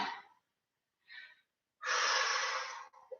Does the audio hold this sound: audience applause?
no